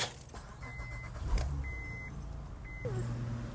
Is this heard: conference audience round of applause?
no